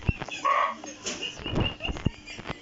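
A dog gives a short bark and a whining yelp, close by and brief, with some rustling in between.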